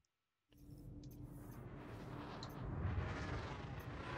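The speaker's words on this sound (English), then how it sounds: "I heard an explosion." A loud, sustained rumbling blast from a Star Citizen spacecraft race, swelling abruptly out of silence into a broad roar that grows slightly and continues to the end.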